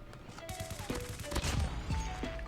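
Gunfire in the Call of Duty Mobile video game rings out as a series of quick, sharp shots in short bursts over a low game background, fairly close and moderately loud.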